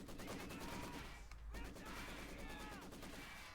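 MG42 machine gun fire in the Company of Heroes 2 strategy game, dense rapid bursts rolling continuously with a brief break midway, heard alongside other battlefield gunfire and game effects.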